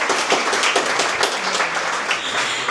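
An audience claps in sustained, dense applause at a talk about sharks and the fishing community, a continuous wash of many hands with no single claps standing out.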